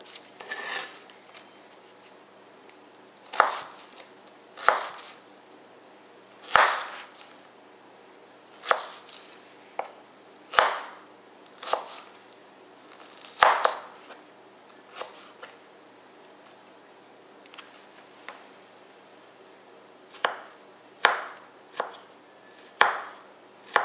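A knife chopping through an onion on a board, sharp isolated cuts at an uneven, unhurried pace, close and clear with quiet gaps between strokes.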